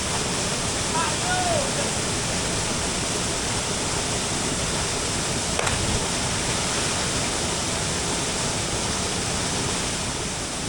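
A forest waterfall roars as a dense, steady rush of falling water, close and continuous, with a faint brief voice near the start.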